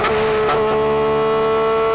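Porsche 911 GT3 RS engine pulling hard in second gear, a loud steady high-pitched howl with strong harmonic tone, close and continuous with a couple of brief bursts near the start.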